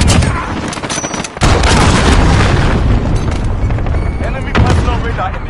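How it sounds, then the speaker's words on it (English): A cruise missile strike detonates in Call of Duty: Modern Warfare, a loud, dense roar of blasts and rumbling impacts with a brief dip before a sustained explosive wash, game announcer voice lines over the top. "Enemy cruise missile incoming."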